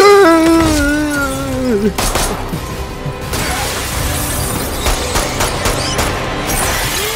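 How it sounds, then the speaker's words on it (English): In an action scene from the film Extraction 2, a gunshot shatters glass in a loud, sharp burst that breaks into crashing, scattering fragments and chaotic action noise, just after a brief strained vocal cry. "he shot the glass to break it to be able to hold on to the beam"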